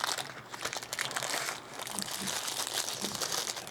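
Small plastic bag crinkling and rustling up close while a Godox mini camera flash is unpacked, a continuous crisp crackle with a few sharper crunches.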